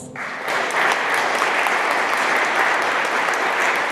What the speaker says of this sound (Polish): Proszę o brawa dla organizatorów.